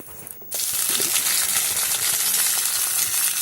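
Chopped onion tipped into hot mustard oil for ghugni, a sudden burst of sizzling about half a second in that settles into a loud, steady hiss.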